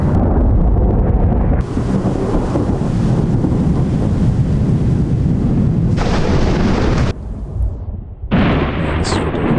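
Heavy thunderstorm rumble roars loud and continuous around an airliner, a dense wash of thunder and storm noise that dips briefly near the end before surging back.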